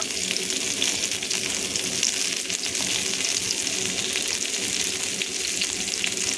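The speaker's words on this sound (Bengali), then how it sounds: "সবজিটার সাথে নাড়াচাড়া করে সামান্য কিছুক্ষণ সময় ধরে এটাকে আমি ভেজে নেব" Vegetables fry in oil with onion and green chili paste, a steady close sizzle with light crackling and occasional stirring scrapes, no voices.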